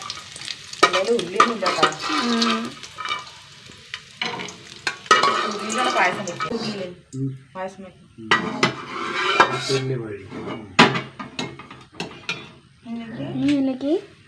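Metal utensil stirring and scraping vermicelli in a pan over a steady sizzle of frying, with clattering knocks throughout and occasional voices speaking.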